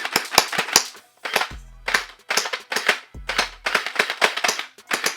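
Dinosaur head gel blaster firing gel balls in rapid bursts of loud, sharp snapping shots, several quick strings separated by brief pauses with a low mechanical whir between bursts.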